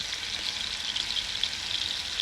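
Steak frying in a hot pan, a steady close sizzle and crackle with small spitting pops, continuing evenly without talk.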